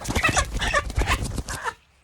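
A chicken clucks and squawks in a quick, choppy series close by, then falls quiet.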